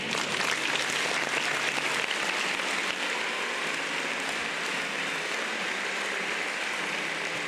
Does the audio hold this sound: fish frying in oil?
no